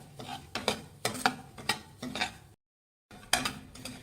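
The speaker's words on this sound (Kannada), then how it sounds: "ಒಂದು 5 ನಿಮಿಷ ಲೋ ಫ್ಲೇಮಲ್ಲಿ ರವೆ ಫ್ರೈ ಮಾಡಿ." A spoon scrapes and stirs semolina (rava) roasting in a pan over low flame, in a series of close, rhythmic gritty strokes about every half second, broken by a brief silent gap.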